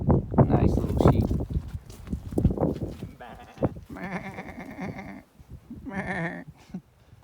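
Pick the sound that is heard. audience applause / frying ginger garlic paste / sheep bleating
sheep bleating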